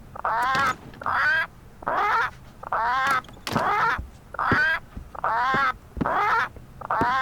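A parrot in Return to Monkey Island gives a series of loud, evenly spaced squawks, about eight harsh calls in a steady rhythm with short gaps between them.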